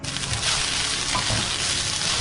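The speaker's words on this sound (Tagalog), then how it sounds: "Hahaluin ng mabuti, natural, para maghalo silang lahat." Fried rice with meat being stirred in a hot pan, a loud, dense, unbroken sizzle with a scraping texture from the stirring, close up.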